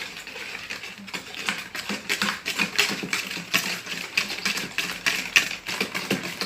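Chocolate fondant batter with eggs and a spoonful of cornstarch stirred in a bowl, a quick, steady run of light clicking and scraping strokes as the utensil knocks against the sides, close and without talk.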